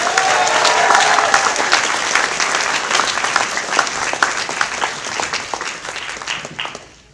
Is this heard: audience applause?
yes